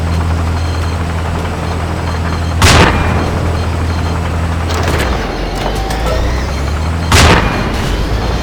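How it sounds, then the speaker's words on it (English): Artillery strikes in Battlefield 2, with two loud, heavy booms several seconds apart and a further distant blast between them over a constant low engine drone. "Artillery, your area."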